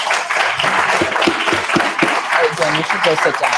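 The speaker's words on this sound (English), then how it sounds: "give them a round of applause" A live audience at the final pitches of a university dApp development and entrepreneurship course applauds as a team is called onto the stage, steady clapping running under a presenter's voice that keeps talking throughout.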